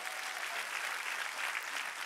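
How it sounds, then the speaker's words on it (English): A church congregation clapping their hands together, a dense, even wash of applause held steady at a moderate distance. "Clap your hands a little bit and get excited with me."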